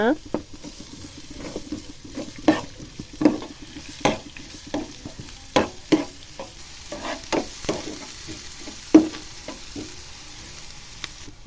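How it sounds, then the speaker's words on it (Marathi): Finely chopped onion sautés in oil with cumin, a soft continuous sizzle broken by regular scraping strokes of a spoon against the pan, close and moderately loud, with no talking. "आता त्याच्यात टाकायचा बारीक चिरलेला कांदा आपला कांदा चांगला व्यवस्थित परतून घ्यायचा"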